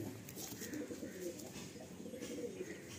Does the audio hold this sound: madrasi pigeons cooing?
yes